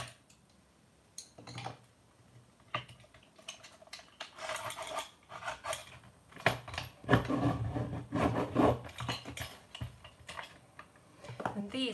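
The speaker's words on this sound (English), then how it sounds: "Give them a bit of a sharpen." Crayola colored pencils being sharpened in a hand sharpener, giving repeated close wooden scraping and grinding bursts with pauses between turns.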